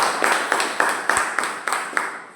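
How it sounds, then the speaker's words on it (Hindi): A training audience claps in rhythm, steady evenly spaced group claps about every third of a second, loud and sustained, with a faint low thump partway through. "चलिए बहुत बड़ी जोरदार ताली होना चाहिए आप सभी।"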